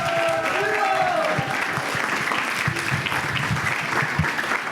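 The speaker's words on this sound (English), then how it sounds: "Please give a big round of applause to our cast." Sustained audience applause for the cast of a Krishna-lila drama at a Janmastami Vedic cultural program, dense steady clapping from a crowd with some brief vocal tones and murmurs mixed in.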